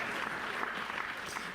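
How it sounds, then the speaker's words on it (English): A studio audience at a comedy show claps in a steady, dense round of applause that holds at even loudness, with faint voices mixed in. "one more big round of applause for Jackie Fabulous"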